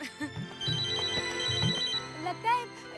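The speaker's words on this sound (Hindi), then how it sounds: "लगता है इनका फोन है" A telephone rings with a repeating high electronic ringtone melody during a Hindi TV serial scene, sounding over steady background music for about two seconds before fading.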